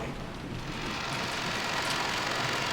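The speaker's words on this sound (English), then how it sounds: "As we opened the front door, the downpour was quite terrific." Heavy rain pouring down outside a front door at night, a dense, even hiss of a downpour filling the short stretch with no voices.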